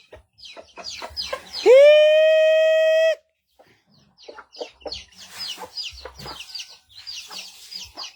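Hens with chicks cluck and chatter nearby in quick bursts, interrupted by one long, loud sustained call before the clucking resumes.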